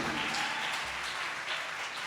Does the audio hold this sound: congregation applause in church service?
yes